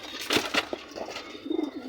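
Pigeons close by, a few soft flutters and wing sounds followed by a low brief coo, quiet and short.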